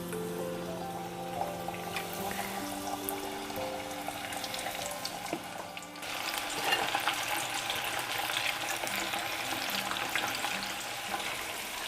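Chicken wings frying in hot oil, a steady close crackle and sizzle that grows louder and busier halfway through, with no talking.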